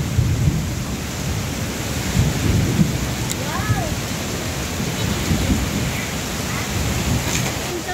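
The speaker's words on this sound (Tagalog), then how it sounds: "Grabing lakas ng ulan sa dagat." Heavy rain pours steadily over the sea with a deep, rolling rumble of thunder underneath, loud and continuous throughout, in Subic, Zambales.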